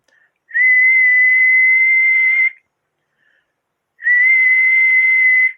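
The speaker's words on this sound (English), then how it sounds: "If I blow a whistle into it," Two long, loud, steady whistle blasts blown into a Mark Sidewinder microphone, close and piercing, separated by a short silence.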